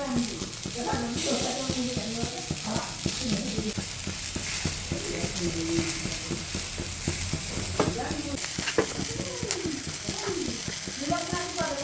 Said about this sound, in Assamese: পিঁয়াজ আৰু কেপচিকাম পিঁয়াজ দি পেলাই ধুনীয়াকৈ প্ৰথমে ভাজি লৈছোঁ